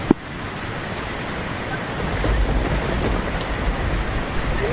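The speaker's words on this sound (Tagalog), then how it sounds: "Lakas ng ulan mga kapan." Heavy rain pours down steadily in a dense, hissing roar, with a sharp knock at the start and no talking.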